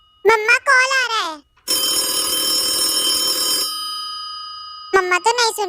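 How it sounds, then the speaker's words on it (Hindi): Phone ringing with an incoming call, a steady electronic ring lasting about two seconds before fading, with a voice speaking just before and after. "मम्मा कॉल आ रहा है।"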